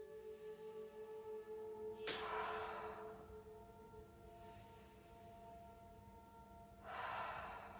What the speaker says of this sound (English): breathing in through the nose, breathing out through the mouth